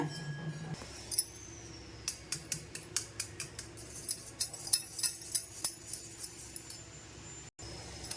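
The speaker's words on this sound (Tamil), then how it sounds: "இப்போ இந்த உடச்சி ஓட்டின முட்டையை இப்படி விங்ஸ் வச்சு நல்லா கலக்கி விடுங்க" Eggs cracked into a bowl are whisked for an omelette, the whisk rapping the bowl in a quick, even run of sharp clinks that carry on for several seconds, close and fairly quiet.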